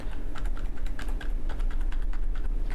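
Plus and minus keys pressed repeatedly on a computer keyboard while editing in Premiere Pro, a steady run of close, crisp key clicks with no talk.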